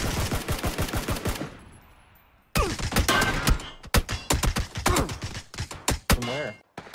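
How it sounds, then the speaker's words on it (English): Gunfire in the PUBG video game, rapid bursts of automatic shots and single cracks, loud and close, with a brief silent gap before the firing resumes in dense volleys. "he's getting shot from behind somewhere"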